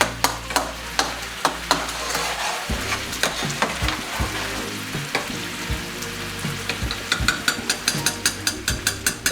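Food sizzling steadily in a pan while a utensil stirs and scrapes it, producing rhythmic clacks that speed up toward the end; close, loud, and free of any speech.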